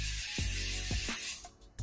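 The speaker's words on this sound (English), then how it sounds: "I'm gonna grab my hairspray and lock that in." Hairspray hisses in a steady, close spray for over a second, broken by a few short clicks and bumps, then trails off with a brief final puff.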